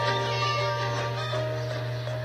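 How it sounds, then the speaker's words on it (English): A cat meows in Scary Teacher 3D, a steady close call held over a low constant hum, with no talking. "Yeah, kitty's in there."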